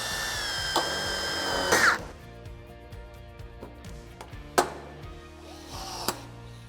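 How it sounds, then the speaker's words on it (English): A rivet gun sets a rivet through the tab of a metal roofing ridge cap, a short whirring drill-like burst followed by sharp snapping clicks and light metallic handling noises nearby. "I'm just gonna put one rivet right in the tab."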